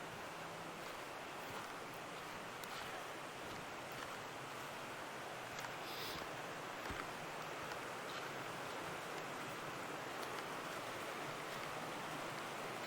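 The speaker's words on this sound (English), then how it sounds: "so this is the creek that I've been fishing" Steady rushing flow of a creek beside a backcountry campsite in the Smokies, a continuous broadband wash of moving water with no breaks, moderately distant and even in level throughout, with no voices.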